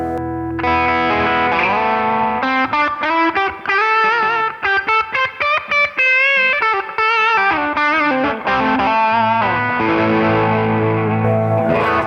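An Ibanez AZ electric guitar runs through a Moonshine clean boost pedal with a slight burn, playing loud, sustained chords and quick picked runs that ring out with a brief pause midway.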